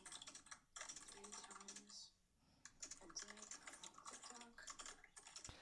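Steady typing on a computer keyboard, a dense run of close clicking keystrokes with a brief pause partway through, heard under faint background speech.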